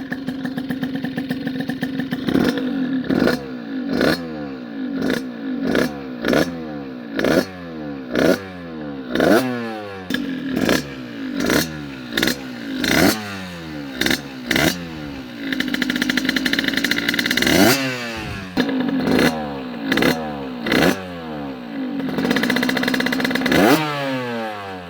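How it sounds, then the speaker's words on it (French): A small two-stroke Yamaha DT 50 motorcycle engine revs repeatedly in sharp bursts, idling briefly between each blip, close and loud, with one longer sustained rev midway. "Bon voilà, j'ai démarré la moto"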